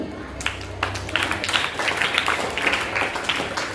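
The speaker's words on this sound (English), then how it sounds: "Let's clap for Kulsum." Audience applause at a school elocution competition breaks out after a brief pause, a dense, steady patter of many hands clapping that fills the room and continues evenly to the end.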